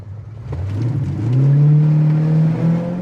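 A 1971 Pontiac Grand Prix engine revs up and accelerates, its pitch climbing steadily as it pulls away, loud and close with road whir underneath.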